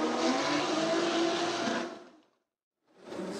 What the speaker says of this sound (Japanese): さあそのエンジンのサウンドが高まります。